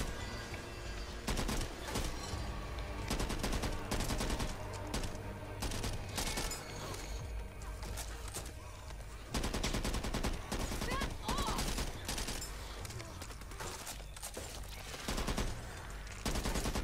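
Rapid sustained minigun fire in the zombie shooter Back 4 Blood, dense bursts of gunfire filling the whole stretch with game effects and chaotic action layered in.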